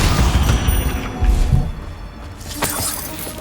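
A Confringo fire-blast spell cast in the Hogwarts Legacy video game erupts as loud, shattering explosive bursts with booming low thuds. Crackling debris follows, and a second burst lands near the end.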